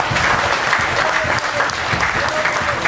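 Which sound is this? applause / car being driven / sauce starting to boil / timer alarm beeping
applause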